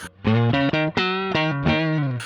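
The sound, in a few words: Squier Telecaster electric guitar through overdriven amp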